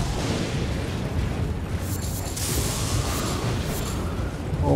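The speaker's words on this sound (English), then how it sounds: "Why is there lightning strikes?" Lightning strikes in Elden Ring, a sustained rumbling roar with booming, explosive crackles rising midway, loud and continuous with no talk over it.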